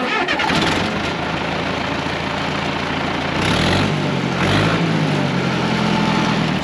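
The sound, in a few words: tractor engine starting after turning the key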